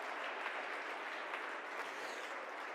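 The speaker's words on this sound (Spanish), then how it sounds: "dale ese aplauso a Dios." A church congregation applauds during a sermon, producing a continuous, fairly faint roar of many hands clapping heard from a distance without any talk over it.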